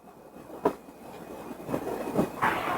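Train rolling along railroad tracks, a steady rumble with rhythmic clickety-clack wheel knocks and a faint high squeal, fairly quiet and without voices.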